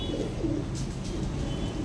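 Pigeons coo softly in a loft or enclosure, with low, faint murmuring calls over a steady background hum and no talking.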